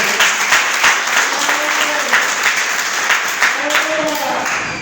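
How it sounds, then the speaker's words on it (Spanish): A church congregation applauds for several seconds during a sermon, dense steady clapping that fills the room, with a voice speaking over it. "Dale un aplauso a Jesucristo"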